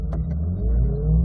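A car accelerates on a race track, its deep engine rumble rising steadily in pitch as it pulls through the gear, heard close and loud without talk.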